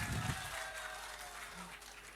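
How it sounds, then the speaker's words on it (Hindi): Audience clapping at a musical dastangoi storytelling performance, a soft burst of applause at the start that fades into a quiet, murmuring room. "आप गाने पे ही ताली बजा रहे हैं"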